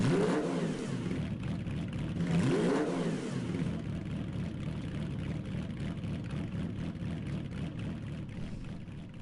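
Ferrari 330 P4 race car in the video game Gran Turismo 7, its engine revving with two rising and falling sweeps early on, then holding a steady high drone, loud and alone.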